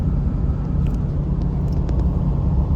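A vehicle rolls past on a desert road in Death Valley, a steady low rumble of tires and engine under wind noise, with no clear rise or fade.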